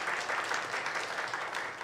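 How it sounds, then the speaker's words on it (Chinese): Church congregation clapping their hands during a Sunday worship service after thanking a visiting pastor, a steady, dense patter of many hands filling the room throughout. "好，拍拍手。"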